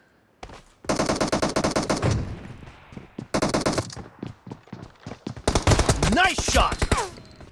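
Shotgun gunfire in a team-based shooter video game: bursts of rapid, loud blasts in clusters separated by short gaps, with clicks and mechanical clatter between volleys and a whooshing effect near the end.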